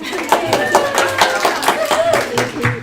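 Scattered audience clapping at an evening health research presentation, a few hands patting unevenly over roughly three seconds while a voice talks over it.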